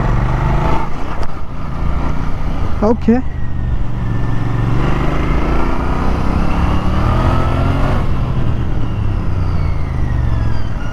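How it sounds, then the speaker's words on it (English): Royal Enfield Interceptor Bear 650 with its 650 cc parallel twin, engine note running steadily and loud throughout as it rises under acceleration, with a brief spoken word early on. "The sound that this engine makes, the classic 650 inline parallel twin."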